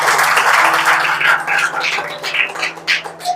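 A classroom of students clapping their hands in a busy, uneven patter, close and moderately loud, with a steady hum underneath and a few voices mixed in.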